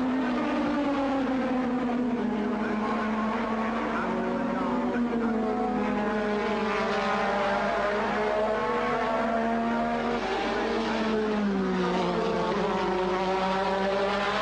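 Formula 1 cars from 1986 race at the British Grand Prix, a high-pitched engine wail rising and falling as cars pass, heard steadily at moderate distance under a commentator's voice.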